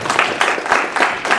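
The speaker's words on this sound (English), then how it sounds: "Give Diane a wonderful round of applause" Audience applause at a workshop, a handful of people clapping close by in loose, pulsing bursts for a brief moment.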